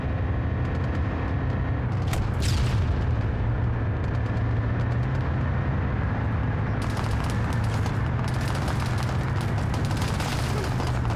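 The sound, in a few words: airstrike explosion in a video game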